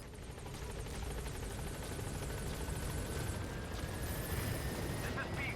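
A video game helicopter arrives at a landing zone, its rotor whirring as a steady, loud drone with a faint rising engine whine, while a voice talks over it.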